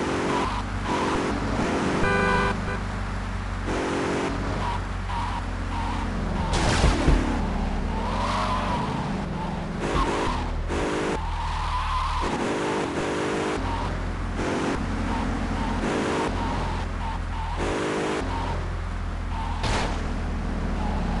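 A car in GTA Vice City driving hard with a steady engine drone and repeated tire squeals and skids, running continuously with little talk.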